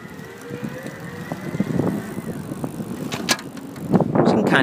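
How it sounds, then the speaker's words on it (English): e-Joe Anggun electric bike riding on pedal assist level 4, a faint steady motor hum with a thin whine under wind and road rumble, scattered clicks and rattles toward the end. "So you can kind of hear it, but it's not the most powerful motor."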